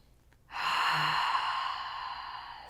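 Deep, slow exhalation during a calming yoga practice, a single close breathy rush that starts abruptly after a short quiet moment and gradually fades over a couple of seconds.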